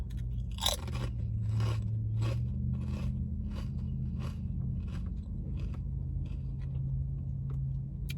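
Loud, close crunching and chewing of chips during a meal of chicken and chips, with repeated crisp bites and steady munching throughout and no talking.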